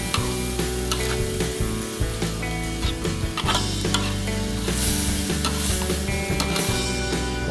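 Loud sizzling in a hot pan with repeated scraping and clanking of a spatula as vegetable filling for risoles is stirred and tossed.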